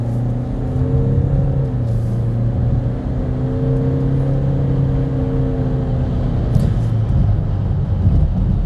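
A Renault Samsung QM6 2.0 diesel with a CVT gearbox pulls away under firm throttle, its engine drone rising smoothly without gear-change steps over a continuous cabin rumble.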